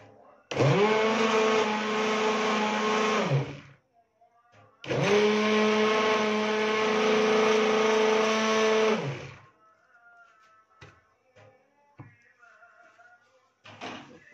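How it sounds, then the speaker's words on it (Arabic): A blender whirs loudly grinding tahini mixture in two bursts, a short one then a longer one, with quiet clicks and faint rustling between and after. "وهنضرب في الخلاط"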